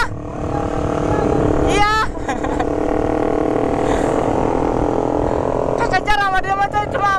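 Honda Sonic motorcycles chase a Honda Vario scooter, with a loud continuous engine drone and sharp rising revs at the start and end, while a rider speaks briefly over the noise.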